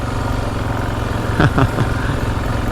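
A motorcycle engine drones steadily while riding through deep sand, with a brief rise in revs partway through, close and fairly loud, with no talk.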